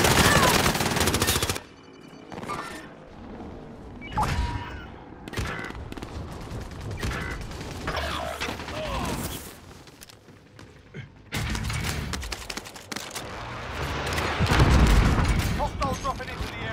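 Call of Duty: Modern Warfare multiplayer gunfire, bursts of rapid automatic shots and booms that come and go over several seconds, loud against game audio with occasional voice chatter.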